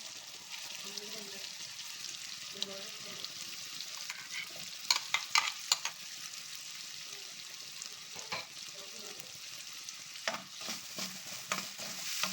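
Ground coconut masala frying with mashed tomato in a pan for egg gravy, a soft continuous sizzle with spoon scrapes and clinks stirring through it, moderately quiet and without talk.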